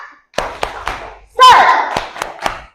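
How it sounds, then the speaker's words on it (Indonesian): Primary school children in class 2A do a rhythmic clapping chant with their teacher after prayer, sharp hand claps in a short pattern broken by a loud burst of children's voices, with more claps after it. "Bu Guru minta tepuk semangat."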